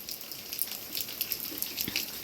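Light mountain drizzle mixed with the first faint snowfall makes scattered, irregular drips and soft patters, quiet and close, over a low background hush, with no talking.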